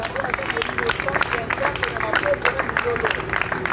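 Church congregation at a worship gathering breaks into sustained clapping and acclamation, a dense crowd wash with shouts and voices mixed throughout, steady and fairly loud.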